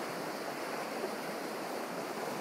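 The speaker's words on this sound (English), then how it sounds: "Luckily there's this concrete berm, water coming out over there" Floodwater pours over a concrete berm at Muddy Creek near Herbert Farm and Natural Area, a steady, dense rushing wash at close range with no pauses or voices.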